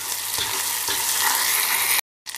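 Butter dropped into hot caramel for a milk chocolate, caramel and peanut tart sizzles loudly and steadily while being stirred, with a steady hiss that cuts off abruptly near the end.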